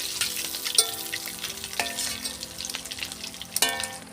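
Prawn malai curry masala, made without coconut milk and spiced with garam masala, sizzles in a wok over a village stove, with steady frying hiss broken by stirring scrapes and a few sharp utensil clinks.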